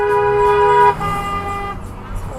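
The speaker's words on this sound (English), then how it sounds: "Other people are honking at him too." Car horns honking in city street traffic: a long loud blast that stops abruptly, quickly followed by another horn held for about a second, then engine noise and traffic rumble.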